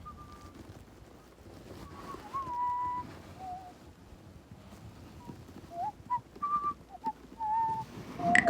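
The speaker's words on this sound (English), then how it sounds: "You can now hear a person whistling." Person whistling in the audio game Frequency Missing, a series of short, thin whistled notes and little rising slides scattered over soft background hiss, growing somewhat louder toward the end.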